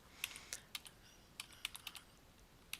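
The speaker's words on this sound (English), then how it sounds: "So I'm going to type in" Someone types a search term on a computer keyboard: a short burst of quick, light key clicks, a pause, then another run of taps, quiet and close, with no talking.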